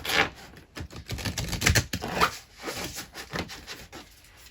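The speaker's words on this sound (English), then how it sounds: "Let's give them a good shuffle." Brisk papery riffling and soft slaps of a tarot deck being shuffled, a burst of quick rustles repeating in short bursts, close up with no talking.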